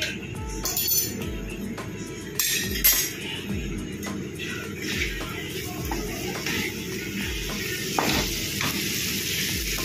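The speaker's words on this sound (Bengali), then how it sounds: "আলুটা দিয়ে এবার ভালো করে মশলাটা কষাতে হবে" Potatoes and spices sautéing in a pan for a mushroom curry, with a steady sizzle under repeated scrapes and stirring strokes of a utensil against the pan, some metallic clinks, close and fairly loud, no talking.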